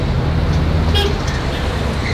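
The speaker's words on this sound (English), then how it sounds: "Crazy traffic." Busy street traffic in Beirut, Lebanon, a steady roar of cars and buses with a brief horn toot near the middle, close and continuous throughout.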